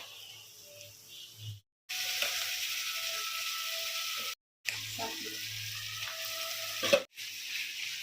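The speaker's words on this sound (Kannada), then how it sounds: "ಜಸ್ಟ್ ಫ್ರೈ ಮಾಡ್ಕೊಳ್ಳೋಣ" Goat intestine (boti) frying in a pan with coriander powder, a steady sizzle broken by two short silent gaps and a few clinks, with no talking.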